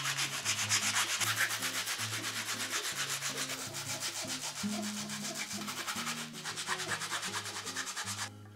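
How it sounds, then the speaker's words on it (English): Wood for a ferret cage ramp is sanded in quick, rhythmic back-and-forth strokes, a loud close scratchy rasp that repeats steadily without a break until a short quieter moment at the end. "We've sanded our wood."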